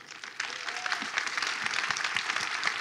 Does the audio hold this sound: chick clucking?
no